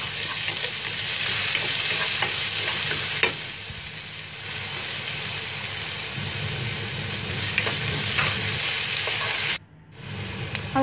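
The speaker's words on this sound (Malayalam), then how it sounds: "സവാള ചേർത്ത് വഴറ്റി അതിനുശേഷം പച്ചമുളക്" Onion, green chili and curry leaves sauté in a pan with a steady, loud sizzle and frying hiss, stirred now and then, continuous for about ten seconds before a brief drop and return.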